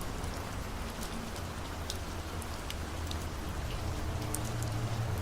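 Steady rain on a stormy night patters against window glass, a dense continuous hiss with scattered sharper drop taps throughout and a low rumble underneath.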